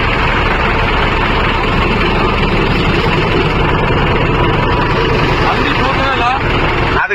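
A 70 HP tractor engine runs steadily and loudly nearby with a continuous low rumble, working alongside a JCB 3DX backhoe loading soil, with people talking over it.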